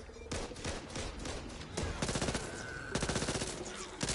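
Gunfire in Back 4 Blood: bursts of rapid shots rattle out at close range, broken by short pauses and layered with other in-game sounds.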